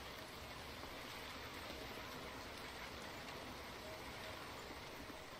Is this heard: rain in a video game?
yes